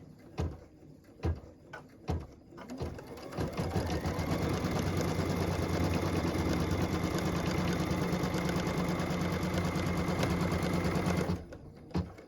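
An embroidery machine stitches a tack-down line on quilt fabric held in a hoop, running as a steady loud mechanical whir for about seven seconds after a few sharp clicks and knocks at the start.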